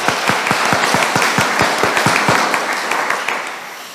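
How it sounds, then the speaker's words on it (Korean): A church congregation claps together during an Easter Vigil Mass to thank the altar servers, a dense, even round of applause that holds steady and then tapers off near the end. "재단에서 봉사해준 우리 복사들에게도 큰 박수 부탁드립니다."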